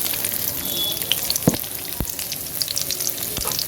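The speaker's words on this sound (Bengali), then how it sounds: "সাদা তেল দিয়ে এখানে আমি এর মধ্যে পেঁয়াজগুলো ঢেলে দিব" Onions sizzling in white oil in a pan, a continuous bright crackle with a couple of sharp clicks from stirring, close and clear without any talking.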